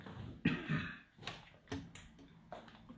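A few short, hoarse coughs close by, spaced unevenly with quiet gaps between them.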